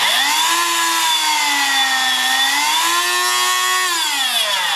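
Dremel rotary tool switched on and running alone, a steady high whine that dips and rises in pitch as the speed changes, close and loud throughout.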